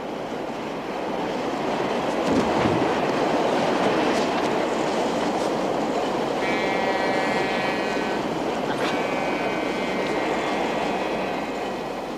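A train running on rails in a 1952 film scene, a steady loud rumble throughout with faint high squealing tones near the end and no talk.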